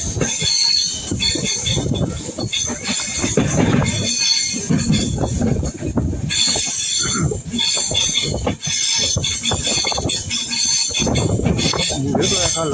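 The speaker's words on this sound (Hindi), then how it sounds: "और ये है कर्व। इस तरह से ट्रेन मुड़ रही है।" Gandhidham Kamakhya Express rolling through a curve, wheels squealing and rumbling loudly with faint clickety-clack, continuous and close, with a voice talking over it.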